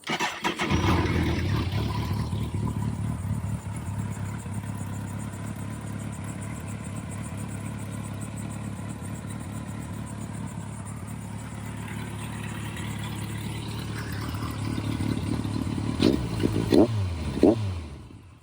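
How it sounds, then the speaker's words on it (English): A Kawasaki Concours 1400 sport-touring motorcycle with slip-on exhaust and catalytic converters intact cranks and fires up, then settles into a steady, deep idle. A brief blip of revs comes near the end, close and loud, with no talking. "Let me just start the bike so I can show you."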